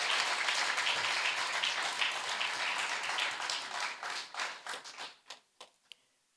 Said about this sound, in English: please join me in giving a round of applause to all of the speakers